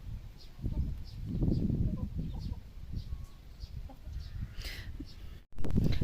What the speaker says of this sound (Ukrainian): А кури лазять по подвір'ї.